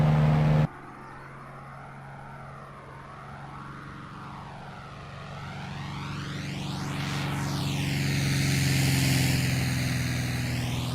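Cessna propeller plane in Microsoft Flight Simulator droning through its takeoff roll, engine pitch sweeping upward and growing steadily louder after a sharp cut at the start, no talking.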